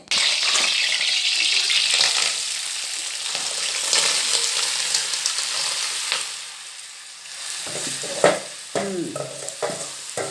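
Shellfish sizzle in boiling oil in a pan for a Thai curry. The frying hiss is loud and close and lasts throughout, with clattering stirring and scraping sounds near the end.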